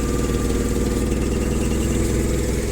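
Gasoline Japanese 1.5-ton forklift engine idling close by, a steady, even low rumble with a faint tonal whine running unchanged throughout, no voices.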